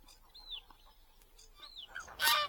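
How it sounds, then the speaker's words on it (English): Canada geese honking from reeds beside a clay pit fishing spot, two downward-slurred calls about a second apart followed by a louder, harsher burst of calling, fairly distant in an otherwise quiet outdoor setting. "my friends, the Canada geese, are in full voice"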